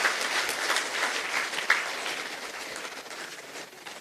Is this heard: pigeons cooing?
no